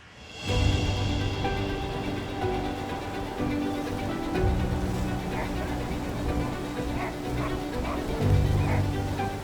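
A team of sled dogs in a snowy Yukon setting barks and yips before a mushing run, a steady noisy chorus of several dogs close by, with louder bursts near the start and end.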